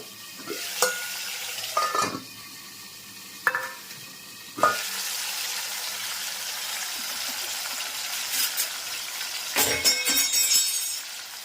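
Pav bhaji with tomato and ginger cooks in a pan, a continuous sizzle punctuated by occasional sharp knocks and scrapes of a spatula stirring, nearby with no talk.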